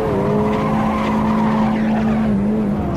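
Sustained tire squeal from a Golf GTI 16V spinning its wheels at a hill-climb start in a racing video game, a steady loud screech holding for nearly three seconds with engine roar underneath.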